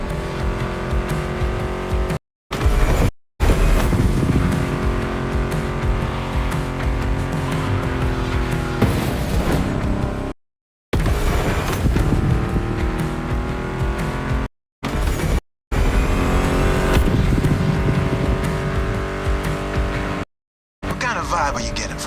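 Ford Mustang GT muscle car engine in The Crew 2 racing game, a loud continuous roar rising and falling through revs and gear shifts with brief tire squeals, under a music track, cutting out for several short silent gaps.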